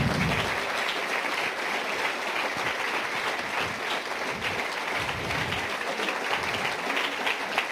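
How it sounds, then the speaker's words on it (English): Audience clapping steadily at the close of a session of lightning talks, a dense sustained wash of applause from a large crowd that holds at an even level throughout. "I need you all to clap and clap until we get all the organizers in"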